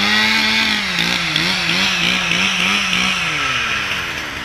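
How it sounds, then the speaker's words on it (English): A loud chainsaw runs close by cutting maple logs in the bush, its engine droning and wavering in pitch as it bites and cuts, easing off slightly toward the end. "There's Kevin Mackin on the chainsaw there."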